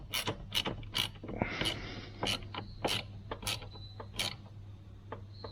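Ratchet wrench clicking in short bursts while tightening a car battery terminal on a Mitsubishi Triton, about eight sharp close ratcheting runs with brief pauses over a steady low hum.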